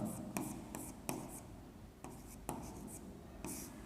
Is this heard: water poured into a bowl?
no